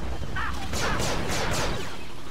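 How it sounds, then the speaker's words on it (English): Pistol blaster shots in Star Wars Battlefront 2 set on Kamino, Clone Wars era: a quick run of about four sharp, descending zaps fired in steady rhythm over constant battle ambience, fairly loud and close. "these pistols sound pretty cool."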